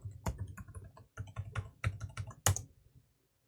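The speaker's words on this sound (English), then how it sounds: "So I'll say yes, and then I'll type in my password." A password is typed on a computer keyboard in quick clusters of crisp, close keystrokes with short pauses, ending in a firm final key press and then silence.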